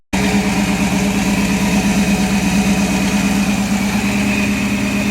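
A carbureted car engine idles steadily just after a jump start, a loud, continuous low rumble that holds even throughout with no voices.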